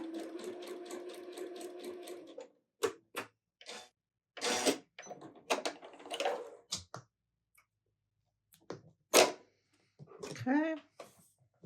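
A sewing machine stitches quilt pieces for a snowman quilt, a fast rhythmic run of needle clatter for about two seconds, followed by scattered clicks and handling noises and bits of quiet talk.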